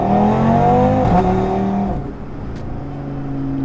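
A Stage 2 tuned Audi RS3 accelerates hard in second gear, its engine note loud and close as it climbs in pitch, then drops off as the driver lifts, with the engine still droning afterward.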